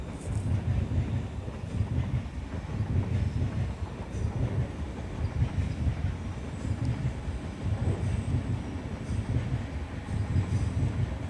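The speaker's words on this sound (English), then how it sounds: "There's another train." A train rolls along a railway beside Walthamstow Marshes in London, a steady low rumble with rhythmic pulses of wheels over the track, heard from some distance with wind buffeting the microphone throughout.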